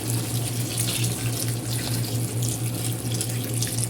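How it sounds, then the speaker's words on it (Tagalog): Hot water pours steadily and continuously into a cooking pot of chicken soup, a constant close splashing rush with a low hum underneath. "ngayon ay maglagay na tayo ng mainit na tubig"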